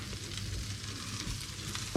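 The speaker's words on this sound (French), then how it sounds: "on va mettre ça à revenir dans le beurre salé" Nettle and navelwort greens sautéing in salted butter in a pan, a steady low sizzle with faint stirring throughout, no voices.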